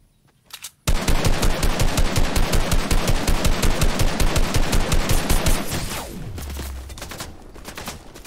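Sustained automatic gunfire from the video game Fortnite rattles in a rapid, loud burst lasting several seconds after a short opening, then fades into lower rumbling and scattered game noise, with no speech.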